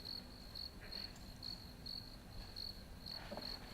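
Regular chirps from a cricket pulse steadily at about two per second, faint and slightly distant against a soft background hum, with no voices.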